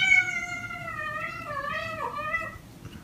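A pet cat meows in one long, drawn-out call, a clear, close, wavering tone that bends down toward the end before trailing off, with no other sounds around it.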